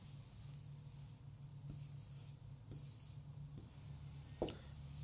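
Faint scratching of handwriting during a history lesson, as a word is written out. Short strokes and taps come at an unhurried pace over a low, steady room hum.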